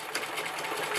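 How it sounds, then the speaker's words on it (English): A sewing machine stitches in the ditch between the seams of pieced fabric, using contrast thread, with a steady, fast, even whir of needle strokes running close and continuous throughout. "And I'm sewing right in the ditch."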